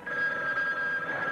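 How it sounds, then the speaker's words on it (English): A telephone rings once in a 1980 women-in-danger horror film trailer: one loud, sustained, close bell ring with no talk over it. "Don't answer the phone."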